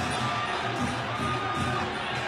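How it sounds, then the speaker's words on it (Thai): Fans of a Muay Thai fighter cheer and shout at a championship bout, a continuous crowd din with small swells, loud and unbroken. "นี่กองเชียร์ของต่วนเป๋ครับ"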